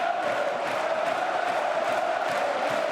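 Football crowd at Portsmouth v Luton Town in the EFL Championship, a continuous roar of cheering and chanting from a large stadium crowd at steady volume.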